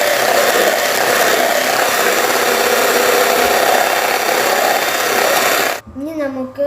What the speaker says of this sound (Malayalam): 1/2 കപ്പ് വിപ്പിംഗ് ക്രീം എടുത്തിട്ട് നമുക്ക് നന്നായിട്ട് ബീറ്റ് ചെയ്യാം.